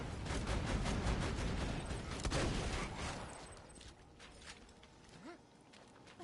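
Rapid bursts of shotgun fire in a video game, a dense loud volley that thins out after a few seconds into scattered mechanical clicks and softer movement.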